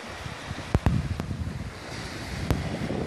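Wind buffets the microphone on a sea beach while surf rolls in the background, steady and fairly quiet, broken by a few brief sharp knocks.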